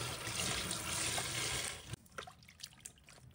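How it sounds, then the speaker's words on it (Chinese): Dried tofu is rinsed under running water and rubbed by hand, first a steady close rush of water, then scattered wet splashes and drips as the flow stops. "这一步要着重清洗表面的油分， 可用手轻轻揉搓几下，把表层的浮油和灰尘都清理干净"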